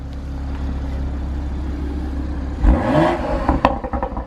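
A 2018 BMW X3 M40i sport SUV, warmed up with the exhaust valve shut and sport mode engaged, idles with a low rumble before a sudden rev swells and rises in pitch, then drops back with crackles, heard up close.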